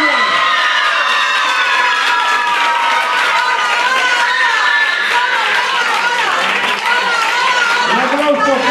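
A large carnival crowd cheers and shouts loudly and without a break as the new carnival queen is named at La Línea de la Concepción's 2014 carnival. The cheering comes as a continuous roar with children's voices mixed in.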